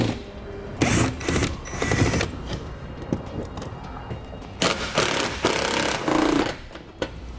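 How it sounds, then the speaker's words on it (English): Screws come out of the inner fender liner of a 2016 Chevrolet with a T15 Torx bit on a power driver, in bursts of whirring and rattling with short pauses between, close and fairly loud. "there will be 7 screws just like this one that we'll need to remove, and they'll take a T15 Torx bit"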